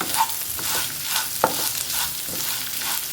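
Onions sautéing in a pan, a steady bright sizzle with a few soft scraping stirs of the spoon, close and continuous without talk.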